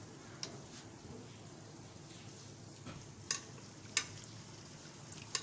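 Meat added to hot oil with fried bitter gourds, a quiet, steady sizzle with a few sharp utensil clinks scattered through it.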